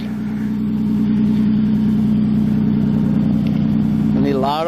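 An old Nissan Pathfinder's engine hums steadily as the truck rolls, a loud, even mid-range drone close by, with a brief voice near the end.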